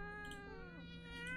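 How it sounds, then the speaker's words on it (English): Cat meowing in the horror video game Fears to Fathom, one drawn-out, steady, wailing meow heard at fairly low volume with no voices anywhere in it. "It was just a cat."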